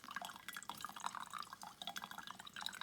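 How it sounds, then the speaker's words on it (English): Hot water trickles and splashes onto coffee grounds in a pour-over brewer, a continuous soft, close pattering stream without speech. "I'm going to do my next pour over"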